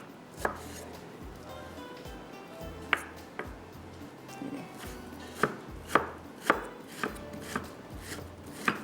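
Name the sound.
chopping food into slices with a knife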